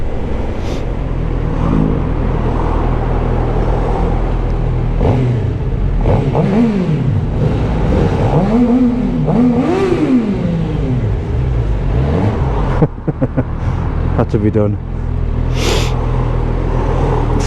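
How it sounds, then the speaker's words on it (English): Suzuki GSX-R750 motorcycle, a 2016 L6 model, its engine revving high on a ride, rising and falling howls repeatedly over a constant rumble and wind noise, close and loud, with a brief spoken remark. "That's the highest this has revved."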